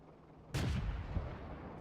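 A single tank cannon shot in the World of Tanks video game lands as one sudden heavy boom, then a rumbling decay fills the rest of the moment with no talking.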